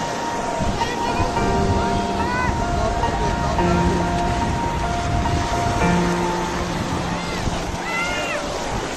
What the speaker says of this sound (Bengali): পানি আসতেছে।